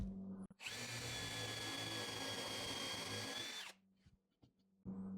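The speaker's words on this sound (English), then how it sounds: "I drill down just until the head is underneath" A power drill bores steadily into a board on a beginner mobile workbench for about three seconds, a loud continuous whine that then stops, followed by quieter clicks and a brief restart.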